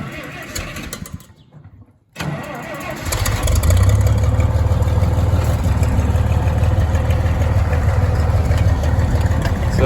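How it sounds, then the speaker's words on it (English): A 1962 Farmall 560 tractor engine cranks briefly, then catches and settles into a loud, steady close-up idle that continues without a break. "let's start her up, take her for a drive"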